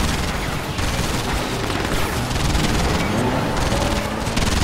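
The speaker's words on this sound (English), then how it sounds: "Bombing run initiated." A bombing run in the real-time strategy game Command & Conquer 3: Tiberium Wars, set in downtown Sydney, produces a continuous, dense barrage of explosions and gunfire-like crackle at full volume with no pauses.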